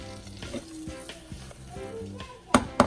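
Butter and garlic sizzle in a frying pan for Dungeness and red rock crab alfredo, a close steady crackle broken by occasional utensil clinks and two sharp knocks near the end, with no talking.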